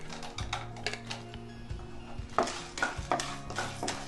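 Chana dal frying in oil as it is stirred in a pan for lemon rice, soft sizzle under repeated scraping and clinking stirs, several quick utensil strokes close by, fairly quiet overall.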